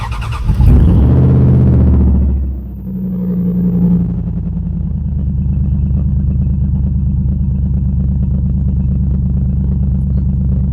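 A Dodge Dakota truck with a Mopar Magnum engine cranks and fires up loudly, revving briefly before dropping into a steady, rumbling idle that continues close by without talk.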